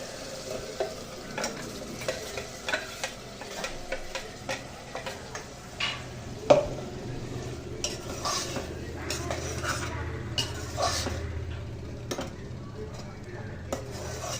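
Ground masala paste frying in a pan after softened tomatoes, a low sizzle under repeated clinks and scrapes of a spoon stirring against the metal pan, with faint talk at moments.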